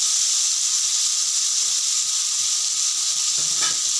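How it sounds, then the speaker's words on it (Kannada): Boiled field beans sauté in a hot pan with a loud, steady hissing sizzle up close, joined near the end by brief stirring scrapes, with no voices. "ಬೇಯಿಸಿಟ್ಕೊಂಡಿರೋ ಅವರೆಕಾಳನ್ನ ಹಾಕ್ತಾಯಿದ್ದೀನಿ. ಹಾಕಿದ್ಮೇಲೆ ಸ್ವಲ್ಪ ಬಾಡಿಸಾದ್ಮೇಲೆ"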